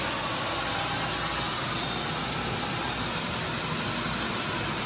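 A pressure washer hisses in a constant, even spray while cleaning the wiring harnesses and frame of a Ford F350 Super Duty with its cab removed, loud and uninterrupted throughout.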